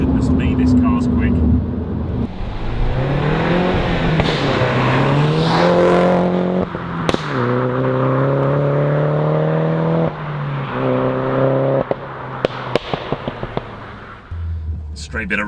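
A Mulgari ICON2 Warbird front-wheel-drive car accelerates hard on an open road, its engine note climbing through gears with rising harmonic sweeps, a few sharp pops near the end, loud and close, with people talking over it.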